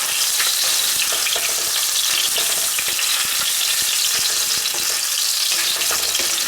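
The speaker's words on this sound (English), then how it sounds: "just add the salmon. And we're just going to give it a fry" Salmon stir-frying in a pan gives a dense, continuous sizzle with scattered crackles and stirring scrapes, close and loud with no talking.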